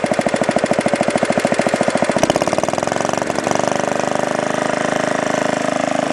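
A 1953 Sears Craftsman reel power mower's small engine runs loud and close, its steady chugging beat speeding up and smoothing into a faster, continuous drone partway through as the throttle is opened.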